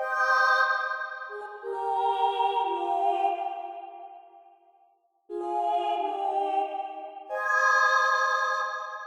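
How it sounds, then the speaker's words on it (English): Choir sample from TP Essentials plays in a beat as sustained vocal-like chords in two phrases, stepping down in pitch and then rising again, moderately loud with a brief gap between them. "This choir is from TP Essentials."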